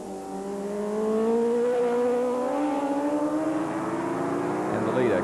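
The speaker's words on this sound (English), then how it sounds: "Phillis, now with Holden closer, comes by, still third and fourth place." Racing superbikes at Oran Park circuit in 1985 scream past, engine whine rising and sweeping in pitch as they approach and pass, with commentary talking over it.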